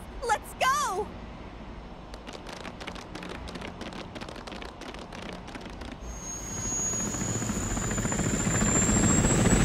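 A helicopter in the video game World's End Club churns steadily with rapid rotor chop, rising to a louder roar with a high whine in the second half, under a short opening sound effect and talk.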